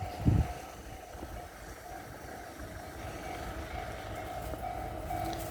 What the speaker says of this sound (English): Let's get the train on the video.